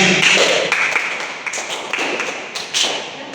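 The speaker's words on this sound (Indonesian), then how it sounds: "Beri tepuk tangan untuk semuanya." A school class applauds four student groups after their presentations on early humans, a steady wash of many close, uneven claps that swells, dips and swells again for a few seconds.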